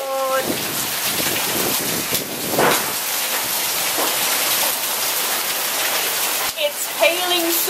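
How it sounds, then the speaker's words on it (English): Heavy hail hammers down in a dense, loud, continuous clatter that lasts several seconds, and a voice breaks in faintly near the end. "It's hailing so hard that the ice, it's like ice cubes falling out of the sky."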